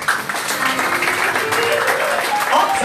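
A church congregation applauding together, a steady mass of clapping filling the room for a few seconds, with voices mixed in.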